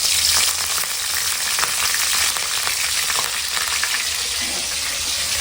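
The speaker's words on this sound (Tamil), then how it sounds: "பெரிய வெங்காயமும் போட்டுக்கிறேன் வெங்காயம் நல்லா வதங்கட்டும்" Onions, fennel and curry leaves fry in a pan with a steady, close sizzle and crackle that runs throughout, with no voices.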